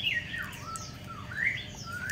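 Songbirds kept as fighting birds for competitions give a few faint, thin chirps and rising and falling whistled calls, spaced apart over steady low background noise.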